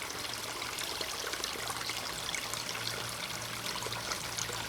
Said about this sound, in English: the water is drowning out that sound quite well